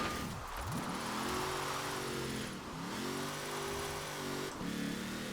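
Car engine in Forza Horizon 4 revving and wavering in pitch as it slides through handbrake-initiated drifts, loud and continuous with repeated dips and surges.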